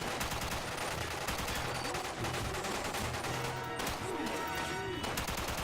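Gunfire rattles through the Xbox 360 game 007: Quantum of Solace, dense bursts of shots over loud, busy game sound with faint talk underneath.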